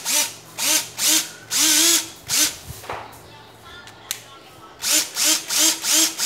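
A cordless drill with 16 clutch settings driving screws: repeated short whirring bursts that rise and fall in pitch, with pauses between them, a brief gap of quieter clicks midway, then several more quick spins.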